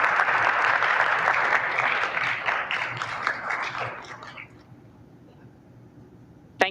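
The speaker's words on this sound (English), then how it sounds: "give her a round of applause." Audience applause in a state senate chamber, loud sustained clapping that fades out after about four seconds, leaving a quiet room with a brief knock at the end.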